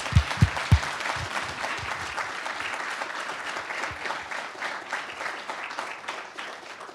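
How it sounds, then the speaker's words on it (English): An audience at an academic award lecture breaks into sustained applause, starting with a few close, sharp claps and settling into an even, moderately loud wash of clapping that lasts throughout. "let's give a big round of applause for Goncalo"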